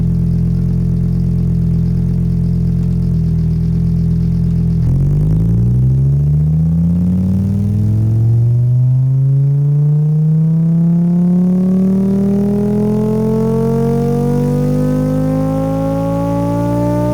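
A simulated car engine in Engine Sim software cranks roughly, then catches and revs up, its pitch sweeping steadily higher over several seconds into a loud, continuous synthetic engine tone with no voices.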